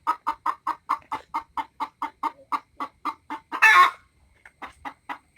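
Chickens in a coop cluck in a steady, evenly spaced run of short calls, close and clear, broken near the end by one louder, harsher squawk before a few softer clucks resume.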